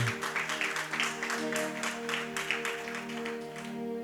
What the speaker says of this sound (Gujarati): ભક્તજનો એકવાર તાળીઓના નાદથી વધાવજો.